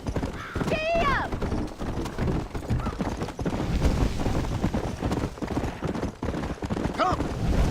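Horse hooves galloping in the Red Dead Redemption video game, a fast steady clip-clop under game music and wind, with a whinny early on and a voice shouting over the ride.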